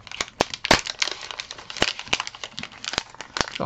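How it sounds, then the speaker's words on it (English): Crinkly, noisy wrapping paper being pulled open and crumpled, a dense run of sharp crackles and rustles with loud bursts, close up and without talk. "it's very crinkly and noisy wrapping paper"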